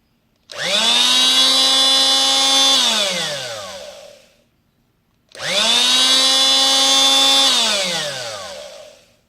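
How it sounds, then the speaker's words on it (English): An oscillating multitool buzzes loudly in two bursts, each rising to a steady high-pitched whine for a few seconds, then winding down, with a short silence between. "So the blade just oscillates back and forth, and that's what causes the sawing action."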